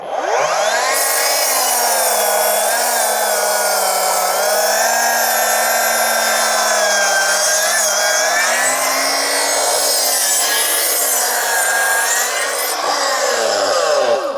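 A Hilti mitre saw cuts through a big piece of dry timber, a loud close whining drone with a strained, wavering pitch through the long cut, ending as the blade winds down, with no talking.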